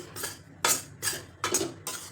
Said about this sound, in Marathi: जरा वेळ तसंच हलवत राहायचं म्हणजे पीठ आपलं करपणार नाही.